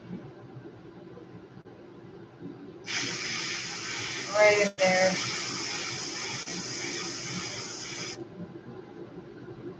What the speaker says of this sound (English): And then I'll just spray black.